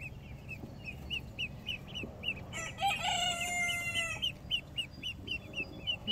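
Guinea fowl on a farm give a fast, repeated series of sharp, rhythmic calls, fairly faint and steady. A louder crowing-like call briefly overlaps them midway, and other poultry can be heard in the background.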